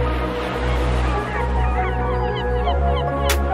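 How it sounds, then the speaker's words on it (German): Seagull cries and beach surf are mixed into a German rap track, with faint gull calls over a steady bed of waves under a loud beat. "Die Strandgeräusche auch, also mit den Möwen und so."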